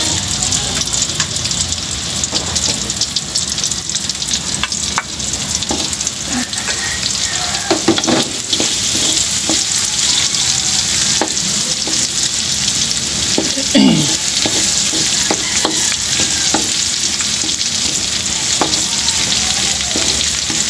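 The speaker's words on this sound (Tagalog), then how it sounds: "Gigisa naman natin ngayon ang bawang." Garlic sizzles and fries steadily in a small amount of oil in a pan, with occasional stirring scrapes and clinks throughout, loud and close, with no talking.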